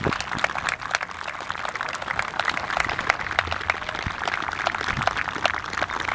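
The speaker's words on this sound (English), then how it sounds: "Let's give them one last hand, round of applause." A crowd at an outdoor memorial ceremony for first responders and military applauds, a dense steady wash of clapping that holds evenly across the moment.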